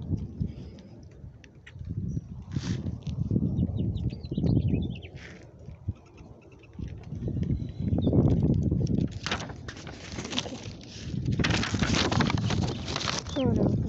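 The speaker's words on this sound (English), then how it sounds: "Oh no, not the wind." Wind buffets a microphone outdoors on a windy day, rumbling in uneven gusts that swell and fade, with a muffled voice and faint bird or hoof-like ticks underneath.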